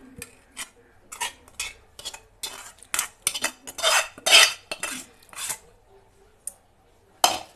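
Ground brinjal chutney mixed with tomato and tamarind, a series of short wet scraping and squishing strokes in an irregular rhythm, close up, with quiet pauses between.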